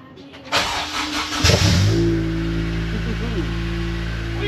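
A Honda Civic EP3 Type R engine cranks briefly and catches, then settles into a steady, loud idle nearby.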